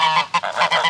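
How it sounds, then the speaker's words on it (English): Domestic geese honk close by in a farmyard near rabbit hutches, a quick burst of four or five loud nasal calls in uneven succession. "Okay, I hear the geese."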